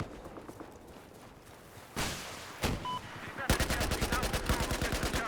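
Gunfire from a rifle in Battlefield 4, rattling off in a single burst midway and then a long rapid automatic volley of sharp, evenly spaced shots toward the end, fairly loud over background game noise.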